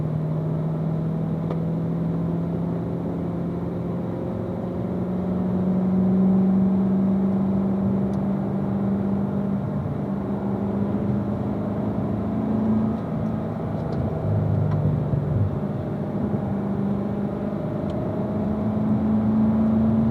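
A car pulls away on a race track during a cautious first lap on cold tyres, its engine a steady droning hum with pitch slowly rising as it gains speed, close and continuous for the whole stretch.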